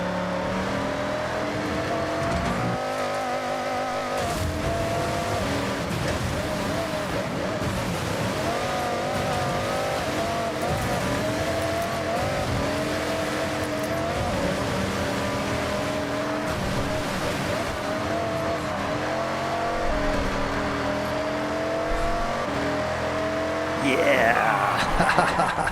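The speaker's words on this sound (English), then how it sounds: "Love skidding across the finish like that." Race car in Forza Horizon 6 skidding across the finish line, a loud, continuous engine drone with tire squeal running for the whole stretch, and a burst near the end.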